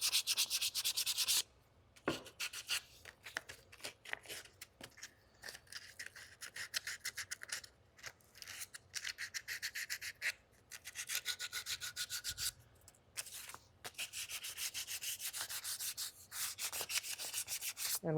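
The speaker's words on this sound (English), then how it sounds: "So I'll get this kind of roughed up a little bit with the sandpaper." Sandpaper rubbing steadily over a rifle stock being roughed up ahead of priming for hydro dipping, with close, rhythmic scratchy strokes and a few brief pauses between passes.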